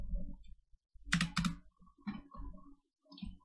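Bursts of computer keyboard typing, quick clustered keystrokes entering a search for Fisher plugins, close and fairly quiet with short pauses between runs.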